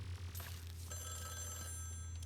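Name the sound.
telephone ringing in Luigi's Mansion 3 video game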